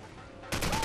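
A quick burst of AK rifle fire in Call of Duty 4 erupts after a half-second lull, several rapid cracking shots close and loud against faint game ambience.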